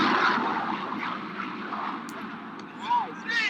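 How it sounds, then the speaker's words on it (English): A fixed-wing airplane passes overhead as a steady, broad engine roar that holds loud before fading slightly, with brief bursts of talk near the end. "The first one I want to show you here is just an airplane going by."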